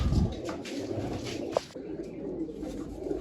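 Pigeons coo close by, the soft low calls of a flock of around fifty to sixty birds repeating over a steady background of rustling and shuffling.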